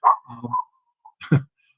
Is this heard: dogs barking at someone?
yes